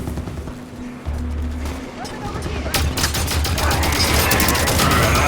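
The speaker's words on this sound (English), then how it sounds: "Turrets on and firing." Automatic turrets in Halo 5: Guardians open up in a sustained burst of rapid gunfire, with the dense crackling volleys building and growing louder in the second half over a low rumbling battle din.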